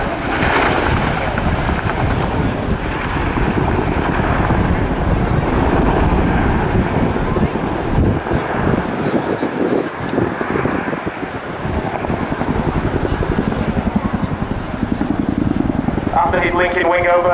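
A Chinook twin-rotor helicopter performs a flying display at the RIAT 2015 airshow, a loud continuous roar of engines and rotors with wind buffeting the microphone, filling the whole stretch at a steady level.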